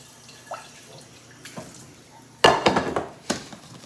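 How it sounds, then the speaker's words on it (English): Rice is washed in a pan of water in a home kitchen. Faint drips and sloshes come first, then a few louder splashes and clinks of grains and water against the pan, close by. "And you want to make sure you wash your rice off."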